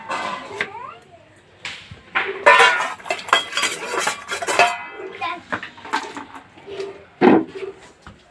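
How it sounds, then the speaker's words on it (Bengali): Pots, dishes and cutlery clatter and clink up close in a home kitchen during washing-up, in scattered bursts with brief pauses between. "কাচাকুচি করে বাসনগুলো এবার মাজবো"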